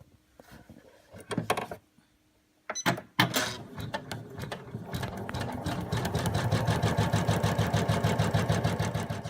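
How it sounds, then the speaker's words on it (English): An embroidery machine stitching fabric runs with a fast, steady mechanical rhythm that starts after a few brief clunks and pauses, then continues evenly and fairly loud. "placed your hoop back onto your embroidery machine, you are then ready to run the stitch"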